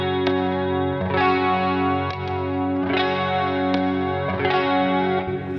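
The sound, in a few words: Ernie Ball Music Man guitar played through boost effect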